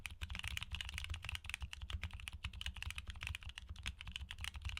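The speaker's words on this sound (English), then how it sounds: "So if you prefer more subdued tactility with a deep sound signature, these Bluish Whites might just be the perfect switches for you." Mechanical keyboard fitted with Bluish White tactile switches typed on rapidly, giving a steady stream of deep, muted, thocky keystrokes, close and fairly quiet, with no talking.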